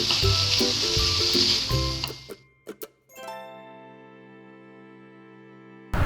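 Chicken pieces cooking in a hot pan with crushed cheese for a pizza paratha, sizzling loudly and steadily up close for about two seconds before a few clanks and then quiet, ringing tones.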